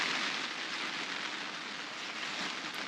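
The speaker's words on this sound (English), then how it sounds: "and then the rain's come" Steady rain drums on a fishing umbrella at a UK angling match, a dense, continuous hiss of drops pattering close overhead without pause.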